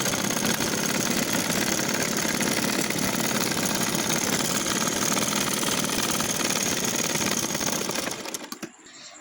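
A sewing machine runs a straight seam on the hem facing of a pajama leg, whirring steadily and loudly for about eight seconds before slowing and stopping.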